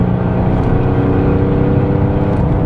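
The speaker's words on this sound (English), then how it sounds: "Now we'll give it some gas." Straight-piped turbo diesel Mercedes CDI accelerating, a loud, steady, deep droning engine roar with a constant low rumble heard close up and alone.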